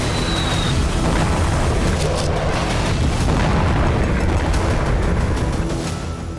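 A bomb detonates at night inside a room where it was planted beforehand, producing a loud, deep, sustained rumbling roar that fills the whole stretch without any voices.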